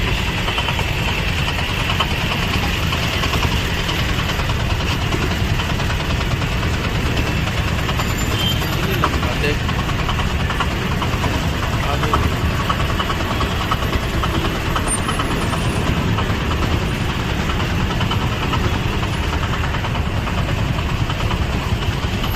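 Idling engines of trucks and buses stuck in a long traffic jam in Guwahati, a steady low rumble with broadband road noise that stays constant throughout, with no clear voices.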